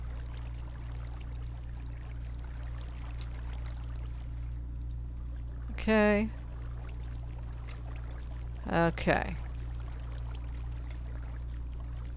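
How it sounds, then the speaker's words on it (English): Splashing water effects in a Minecraft-style video game, two short bursts several seconds apart over a steady low hum, with a brief spoken word in between. "Why are you making water noises?"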